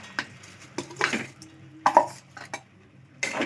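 A spoon scrapes and clinks in a pot while vegetable pulao rice is stirred. The strokes are close and uneven, with a few louder knocks against the metal.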